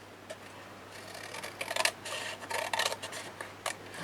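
Scissors snip through tag material with a series of short, close, crisp cuts and light rustling in irregular bursts, quiet overall and without speech.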